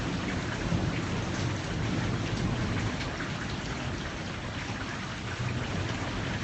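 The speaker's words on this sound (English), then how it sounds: "You can still hear the thunder." Heavy rain hammers down during a thunderstorm in the San Fernando Valley, a loud, dense, unbroken roar with low rumbling thunder blended underneath and no speech.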